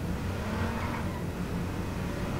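A car engine in the video game H1Z1 hums and revs steadily throughout, a continuous mid-range drone with no speech.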